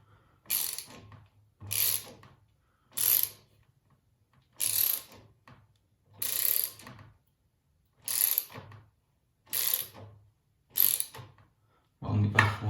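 Clamps being tightened with a ratchet during assembly of an Apollo RFZ 150cc bike, about eight separate bursts of rapid clicking evenly spaced with short pauses between them, close and clear in a quiet room.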